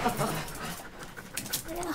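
A German shepherd dog panting in quick, breathy rhythm, close by and continuous, with people talking over it.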